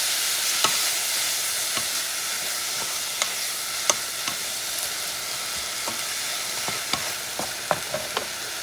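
Meat and tomato sizzle in a hot pan, a steady close frying hiss broken by scattered scraping clicks of a utensil stirring through the food, with no voices.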